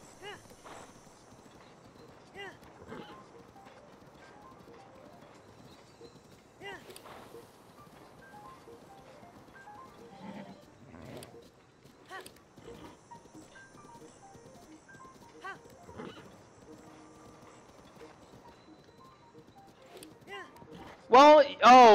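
A horse in Zelda Breath of the Wild clip-clops along in quiet, scattered hoofbeats under intermittent talk, ending with a sudden loud whinny.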